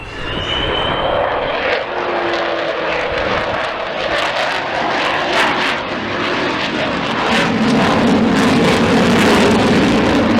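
Avro Vulcan XH558 bomber on its last flight at the 2015 Rhyl air show in North Wales, a loud, sustained roar of jet engines that rises and swells toward the end as the aircraft passes overhead.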